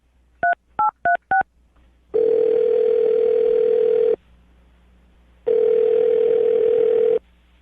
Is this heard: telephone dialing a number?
yes